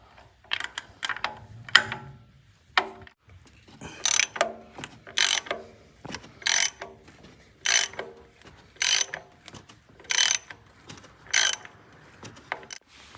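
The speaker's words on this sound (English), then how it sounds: "So 22 mm deep socket, breaker bar and lefty loosey." A breaker bar on a 22 mm deep socket loosens a bolt on a 2009 Toyota Camry 2.4 litre engine, giving a steady series of sharp ratcheting clicks in short bursts, close and clear, with no talking.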